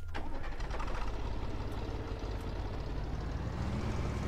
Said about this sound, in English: Just listen to it roar.